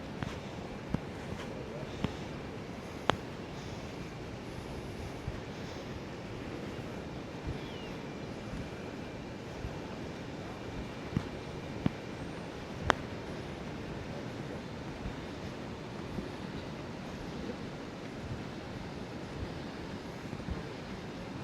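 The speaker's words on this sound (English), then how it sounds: "See some shots of the Atlantic Ocean right there for Rockaway Beach." Atlantic Ocean surf at Rockaway Beach in Queens, New York, a steady, soft, far-off roar of breaking waves with a few faint clicks and handling bumps on top.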